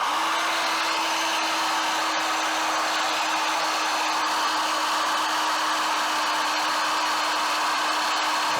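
Steady motor whine of a Vevor 18-volt electric hydraulic jack running continuously as it raises, a constant hum with a broad hiss above it, holding level throughout with no talk.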